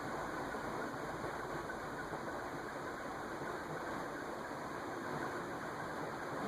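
A circa-1990 Envirofan Silver Line 60F-9 industrial ceiling fan gradually speeding up, giving a steady, close, broadband whooshing hum with faint high tonal whine lines, unbroken and without talk.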